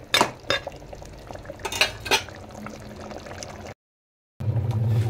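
A spoon stirs cooked vegetable curry (salan) in a metal pot in a home kitchen. Close, irregular clanks and scrapes sound against a soft simmering background, followed by a brief silent gap.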